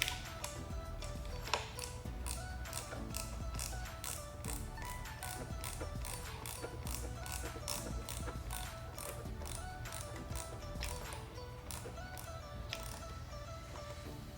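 A ratcheting screwdriver clicks steadily and continuously while screws are tightened on the tachometer mount of a 2006–2007 Kawasaki ZX10R, close and fairly quiet, with no talk.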